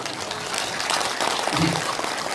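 Applause from an audience at a political town-hall briefing, a steady wash of clapping from a crowd that holds evenly for a couple of seconds.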